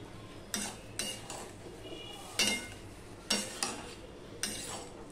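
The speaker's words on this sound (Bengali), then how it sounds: "এইভাবে খুন্তির সাহায্যে ভালো করে মিশিয়ে দিতে হবে।" A metal spatula scrapes and clinks against a pan while raw small fish are stirred and mixed, with a series of evenly spaced, crisp strokes and soft shuffling in between.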